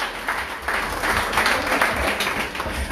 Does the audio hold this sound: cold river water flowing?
no